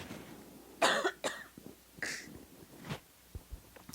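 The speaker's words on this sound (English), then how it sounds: "Excuse me. I've got a cough." A person coughs a few times close up, with short sharp bursts followed by quieter throat sounds and breaths.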